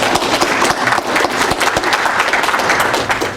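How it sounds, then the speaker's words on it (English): Applause from attendees closing a long session of a geospatial standards forum meeting, steady dense clapping from a roomful of people throughout, loud and close. "I think first off we should give ourselves a round of applause"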